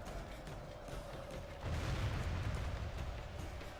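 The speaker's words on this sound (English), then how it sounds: "The cannons are trying." Cannon artillery fire in the video game Medieval II: Total War, heard as a dense, rumbling battle roar of booms and blasts that swells louder halfway through and continues without let-up.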